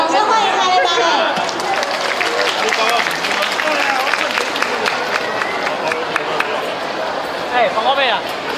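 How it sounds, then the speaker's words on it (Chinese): An audience at a live stage event claps and cheers to welcome a dance performance by the duo Harebare. Dense applause mixes with crowd chatter and voices, loud and sustained throughout. "掌声欢迎哈雷芭蕾"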